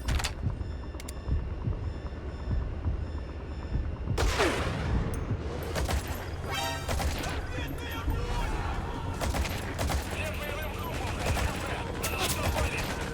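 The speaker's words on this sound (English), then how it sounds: "I was not expecting a sniper." Sniper gunfire and dense weapon noise crackle through a Metal Gear Solid V firefight, with sharp shots and mechanical clatter layered over a busy game soundscape while a player talks over it.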